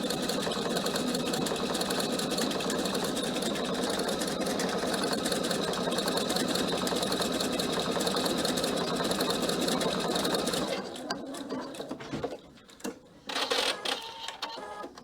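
PFA sewing machine stitching a cushion cover, a steady fast mechanical whir running continuously for about ten seconds before it stops and the fabric is handled.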